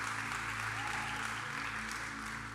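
Audience applause at a church conference, a steady continuous wash of clapping from a crowd, moderately distant and even in level throughout, with a low hum underneath.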